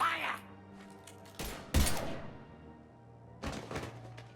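Gunfire in Mass Effect 3, a few heavy bursts and thudding impacts spaced irregularly, fairly close, with voices speaking in between.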